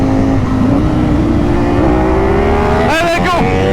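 A Ducati Streetfighter V4S and a Kawasaki ZX-4RR motorcycle rev up close by, the engine pitch climbing steadily into a loud whine, with voices breaking in near the end.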